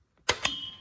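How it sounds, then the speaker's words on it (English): A screwdriver prying a cable linkage loose on a 2017 Chevy Silverado 1500 rear axle gives two sharp metallic clicks in close succession, followed by a short ringing tail, with no talking. "Get your screwdriver in there and pry it off a little bit,"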